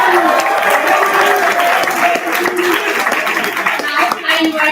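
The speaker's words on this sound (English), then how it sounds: "A huge round of applause for all our participants for keeping the energy so high for us." An audience at a university commerce school event applauds participants with dense, sustained clapping and some crowd noise, loud and continuous throughout.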